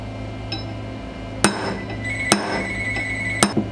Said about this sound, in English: So I'm going to punch this through slightly, and that'll break the burr off the other side.